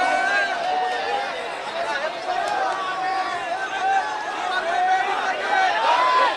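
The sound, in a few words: large crowd chattering at a political event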